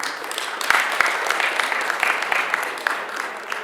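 Audience applause at an African launch event for a health campaign, dense steady clapping from a large crowd holding at a constant loud level throughout, with a couple of sharper claps near the start.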